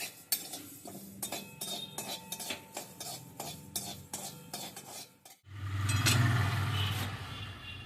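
Cumin seeds being dry roasted in a metal pan, stirred with repeated close scrapes and clinks of a utensil against the pan, then a sudden broad rushing noise near the end.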